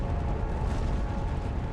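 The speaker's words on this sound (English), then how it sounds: "It releases millions of tons of magma in a colossal explosion" The 1980 Mount St. Helens eruption sounds as a continuous, dense roaring blast, loud and broad with deep rumbling throughout and no break.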